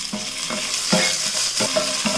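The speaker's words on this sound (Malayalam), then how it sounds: "ഇനി ഇതിലേക്ക് 1 ടീസ്പൂൺ ജിഞ്ചർ ഗാർലിക് പേസ്റ്റ് ഇട്ട് കൊടുക്കാം" Ginger garlic paste frying with cumin seeds and spices in a hot pan, a constant bright sizzle with rhythmic scraping strokes of a spoon stirring, close and loud.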